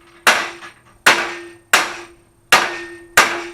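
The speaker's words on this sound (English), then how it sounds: "Mr. 5-pound sledge." A 5-pound sledgehammer strikes an aluminum patio lounge chair frame five times in a steady rhythm, each blow a loud, close metallic bang with a short ringing tone that decays quickly.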